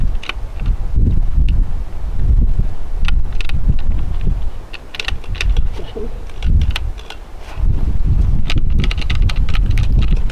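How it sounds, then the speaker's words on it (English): Strong, gusty wind buffets the microphone at an outdoor rimfire rifle range, roaring in loud surges with brief lulls and no talking. "Oh man, the wind is going crazy now."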